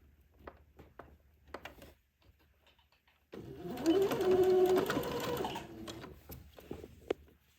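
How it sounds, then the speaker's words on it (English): A sewing machine stitching the second pass of a French seam with a quarter-inch seam allowance, running steadily for about a second and a half after a few quiet handling taps, then stopping. "I'm going to sew the other pass of the French seam"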